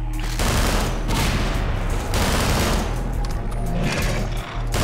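Rapid gunfire in the video game Entropy Zero, loud sustained bursts of automatic shots stacked on top of one another with barely a break, alone without talk.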